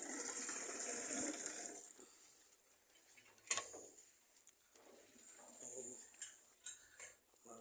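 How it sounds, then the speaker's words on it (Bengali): Water runs through a pipe as a soft, uneven gushing trickle, stronger at first and then fading, broken by a sharp knock midway and small splashy bursts. "দেখেন পাইপ দিয়ে পানি যাচ্ছে।"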